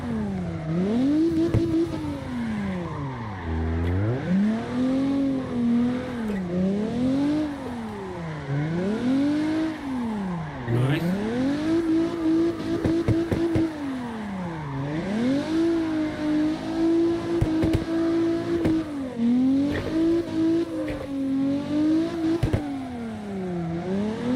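A drifting car engine in the CarX Drift Online racing game revs hard, rising and falling repeatedly and holding high revs in long stretches, with tire noise underneath throughout.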